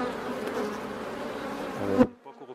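Honeybees buzz in a dense, steady drone around an opened hive during a weekly brood-frame inspection, loud and close for about two seconds before cutting off abruptly, leaving a few faint scattered sounds.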